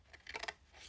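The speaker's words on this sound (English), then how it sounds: "Cut, trim up to the fold line on one of them." Scissors snip through paper up to a fold line during a spring basket craft, a few quick close cuts bunched in the middle of a short stretch with no talking.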